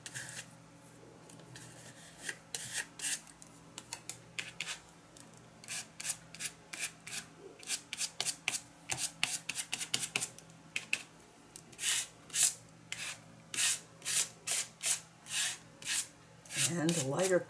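A card spreads paint across a journal page, with repeated close scraping and rubbing strokes that grow more regular and rhythmic toward the end.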